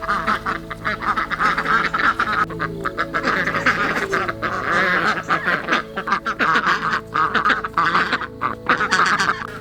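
Silver Appleyard ducks quacking in a small backyard garden, a busy run of repeated nasal quacks at close range that keeps going throughout, with overlapping calls and brief dips between bursts.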